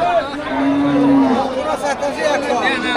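Cattle lowing at a busy Bangladeshi livestock market, one long low moo standing out over crowd chatter and people talking nearby.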